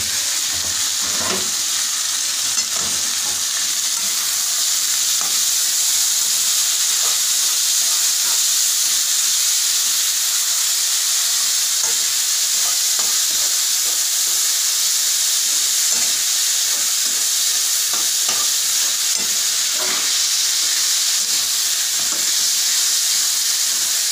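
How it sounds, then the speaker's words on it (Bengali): Vegetable peel fries in a pan with salt added, a steady close sizzle and hiss running the whole time, broken by occasional stirring scrapes and clicks, with no talk. "এই খোসাটা ভাজা"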